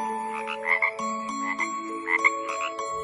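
A frog croaks in a steady run of repeated, rhythmic calls, close and moderately loud, with no voices.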